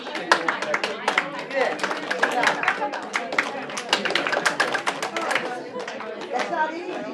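Hands clapping in an uneven rhythm during a prosody exercise, sharp close claps running throughout under a speaking voice, with other voices in the room.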